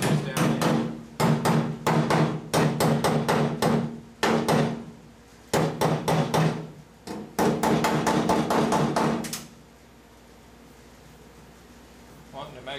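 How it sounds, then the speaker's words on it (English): A small hammer taps the trim edges down into a 1979 Chevrolet El Camino door, in fast bursts of sharp metallic blows separated by short pauses, then falls quiet near the end. "just take a little hammer and kind of tap the edges down in"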